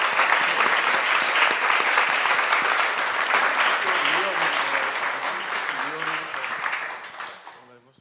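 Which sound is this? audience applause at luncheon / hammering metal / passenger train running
audience applause at luncheon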